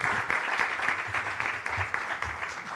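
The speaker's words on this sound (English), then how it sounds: "So let's give a round of applause to Oliver." Conference audience at a monetary policy meeting clapping for a presenter, a short burst of moderate, slightly uneven applause filling the room.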